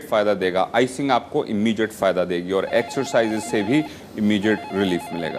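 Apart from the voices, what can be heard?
telephone ringing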